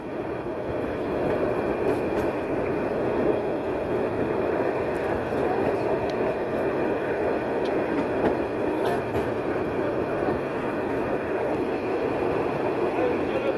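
A Narayanganj commuter train rolls through the Sayedabad–Jatrabari area of Dhaka, running close between buildings along a narrow lane, with a steady, loud, close rumble and faint rail clicks throughout.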